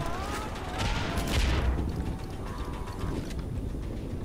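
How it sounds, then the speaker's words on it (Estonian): Gunpowder exploding in Far Cry 4, a dense crackling fusillade of pops and bangs that swells loudly in the middle and keeps popping steadily through to the end, with no talk over it. "Püssiroht hakkab ju paukuma."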